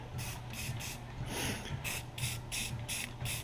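Rust-Oleum spray paint misted onto welded farm chain hooks, sounding as a series of short, close aerosol hisses in steady succession, moderately loud, with no voices.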